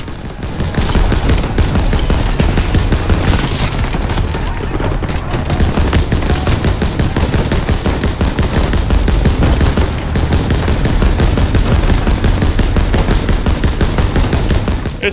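Heavy gunfire in Call of Duty: WWII at the Battle of the Bulge, a loud, relentless rattle of rapid automatic shots that barely pauses, thick with overlapping battle noise.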